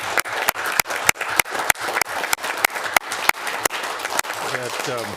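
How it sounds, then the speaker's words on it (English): Applause for 911 dispatchers at the Edina city council meeting, a few people clapping in a steady, fairly close rhythm, with a voice rising near the end. "We're going to give you a round of applause."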